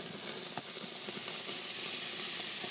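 Prime bone-in chops sizzling on a grill as a splash of Grand Marnier hits them, a steady crackling hiss with scattered pops that swells slightly toward the end, no voices.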